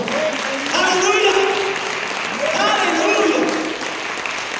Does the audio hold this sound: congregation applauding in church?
yes